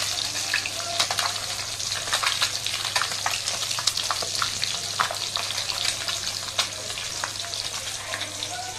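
Pieces of katla fish sizzle and spit in hot oil in a pan, a continuous crackling fry with sharp pops scattered throughout, close and steady over a low hum.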